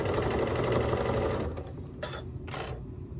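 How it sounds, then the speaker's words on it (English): A sewing machine stitches quilt blocks together with sashing strips, a steady close mechanical whir that stops halfway, followed by a couple of short clicks and brief bursts of stitching. "I'm just going to continue to sew down"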